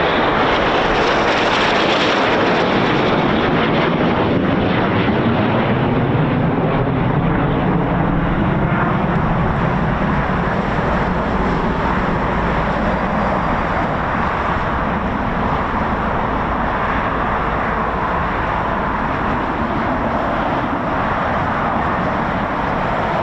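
Red Arrows aerobatic jets fly at RAF Waddington, making a loud, continuous jet roar that swells in the opening seconds and then holds a steady, broad rush throughout.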